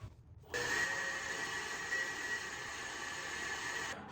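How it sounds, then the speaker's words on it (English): Wet vacuum sucking water out of a sailboat's bilge, starting abruptly into a steady high-pitched whining roar that holds for over three seconds before cutting off, faint and alone with no talking. "after some dubious vacuuming, I was able to get about 33 gallons of water out of the bilge"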